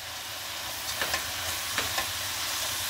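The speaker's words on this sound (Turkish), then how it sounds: "Hepsini birlikte güzelce karıştırıyoruz." Rice is stirred into mince frying in a pan for Izmir-style artichoke dolma, giving a steady close sizzle with a few soft scraping strokes of the spoon.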